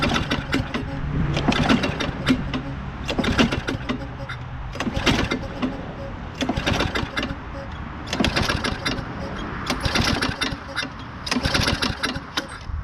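Tecumseh lawn mower engine being pull-started repeatedly, a series of rhythmic rope pulls with sputtering mechanical cranking that never catches, close and loud, with someone talking over it at times.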